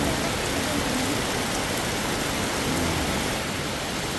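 Steady, dense rain pouring down, a continuous hiss without pauses or voices.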